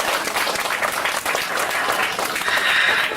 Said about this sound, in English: how about a great big round of applause for our diver